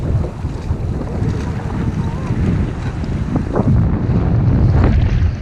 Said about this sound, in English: Since the wind's blowing like that, we'll fight the wind